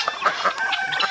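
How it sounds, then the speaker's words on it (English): Cornish Rock meat chickens cluck and murmur together in a steady, busy chorus, close and fairly loud. "And then this is where we keep our meat chickens, Cornish rocks."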